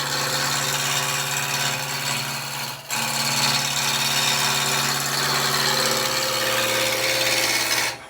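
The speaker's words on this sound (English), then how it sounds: "we'll just turn that lathe off and we'll just check again" Wood lathe spinning a spindle blank while a beginner works it with a spindle roughing gouge, giving a loud, steady whirring hum with a steady cutting hiss that cuts out briefly midway and then resumes.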